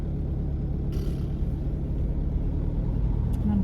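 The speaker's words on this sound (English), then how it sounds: "there's a car" A car passing by on a road at dusk, a steady low rumble that stays loud and close throughout, with a brief hiss as it goes by.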